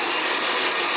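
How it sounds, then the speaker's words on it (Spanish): A handheld hair dryer blows steadily from above while hair is styled into waves, a loud, even whoosh of air filling the whole second with no talking. "cojo el secador desde arriba"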